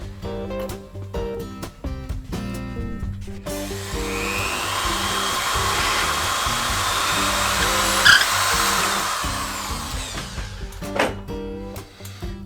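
A power drill widens a screw hole, running as a steady continuous whine for about seven seconds in the middle, with intermittent handling knocks and clatter before and after.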